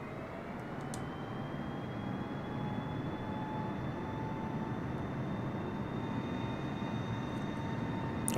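A flight-simulator airplane revs its engine for takeoff at Mount Everest, a steady droning roar with a faint rising whine, continuous and unchanging throughout.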